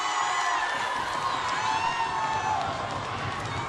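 Crowd noise in a gym during a Woodside vs. Warwick girls and boys volleyball game, a steady broadband roar of cheering and shouting filling the space, with voices blended into the din throughout.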